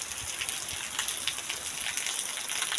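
Heavy downpour on an outdoor spot where ducks are out in the rain, a steady dense hiss of drops pattering close and continuous with no voices.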